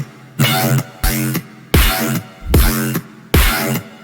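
A square wave synth patch driven by a step sequencer in a dubstep style, giving loud buzzy stabs in a choppy, syncopated rhythm, about five notes with short gaps between them, with no talking.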